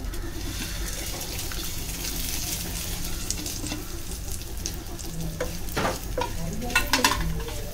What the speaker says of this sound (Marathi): गरम मसाले आपल्याला जास्त नाही परतायचे, जस्ट अरोमा येईपर्यंत